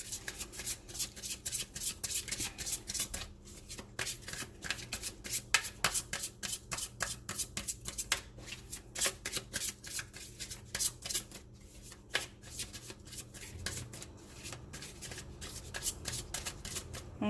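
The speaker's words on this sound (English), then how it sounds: "Let's get a card from the top and one from the bottom" Oracle cards being shuffled and drawn by hand, a rapid, continuous riffle-and-slide pattern of soft papery slaps, close and fairly quiet, running throughout with no talking.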